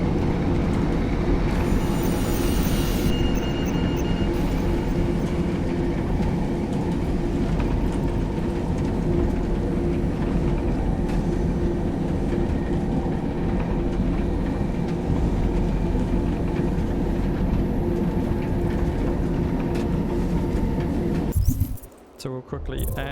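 Train at a station in the video game Deus Ex Mankind Divided, a loud steady rumbling drone that carries through most of the clip before cutting off near the end.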